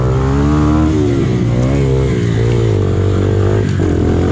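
Engine of an SSR 150 pit bike roaring loud and close throughout a dirt bike race on a slick track, its pitch rising and falling steadily as the rider works the throttle.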